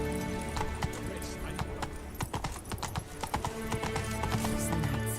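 The horse Roach gallops in The Witcher 3, a rapid rhythmic clip-clop of hooves with a whinny, joined by game voices and ambience.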